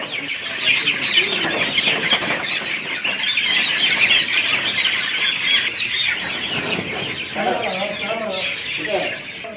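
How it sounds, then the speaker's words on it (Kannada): Dense, continuous high chirping from many chicks tied in sacks and buried in soil on a poultry farm in Santhekadur, Shivamogga, with a voice faintly underneath. "ಚೀಲಗಳಲ್ಲಿ ಕಟ್ಟಿ ಆ ಕೋಳಿ ಮರಿಗಳನ್ನ ಮಣ್ಣಿನ ಒಳಗೆ ಹೂತಾಗ್ತಾ ಇರುವಂತದ್ದು"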